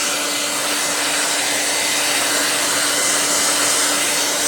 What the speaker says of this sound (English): Take hair dryer, high, on.